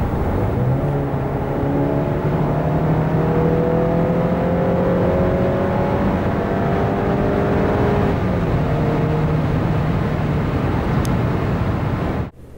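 A Range Rover Evoque 2023 SUV with a 2.0-litre 300 hp AWD engine pulls hard and steadily from 90 to 140 km/h for about twelve seconds, its rising tone climbing through the gears with a loud, continuous roar and no talk.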